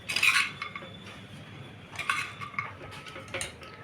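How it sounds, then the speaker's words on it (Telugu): Metal spoon scraping and clinking against a pot while tamarind rice is stirred and mixed, a few short bursts of clatter with quiet gaps between, close and alone. "ఇప్పుడు మొత్తం మిక్స్ చేసేసుకుందాం"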